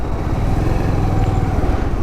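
A Bajaj Pulsar motorcycle engine runs steadily up close near a busy petrol station, giving a continuous low, smooth rumble with no speech over it.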